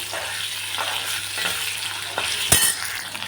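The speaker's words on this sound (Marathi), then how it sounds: "पुन्हा चांगले तळून घेते बटाटे" Potatoes frying in hot oil in a pan for a pea and potato curry, with a continuous hissing sizzle, soft stirring scrapes, and one sharp clatter near the end, heard close up and with no talking.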